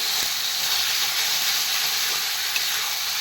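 Marinated boneless chicken sizzles steadily in a hot pan, a loud, even frying hiss that runs unbroken throughout with no talking.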